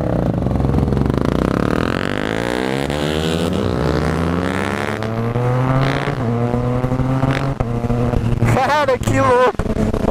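A Yamaha MT-09 fitted with a quickshifter and an engine remap rides past, its engine revving and climbing through gears with quick shifts, loud and close, with someone talking over it.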